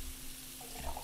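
Kitchen sink tap in the video game Cooking Simulator running water in a steady, soft hiss, with faint stray noises near the end and no talk.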